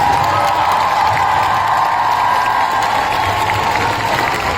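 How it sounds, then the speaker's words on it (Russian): Crowd at ComicCon Russia clapping and cheering after Mads Mikkelsen leaves the stage, a loud, sustained roar of applause with scattered whoops, steady throughout with no letup. "Давайте продолжайте хлопать."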